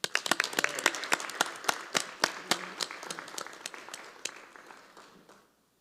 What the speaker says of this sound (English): please join me in applauding these principals and their schools for their efforts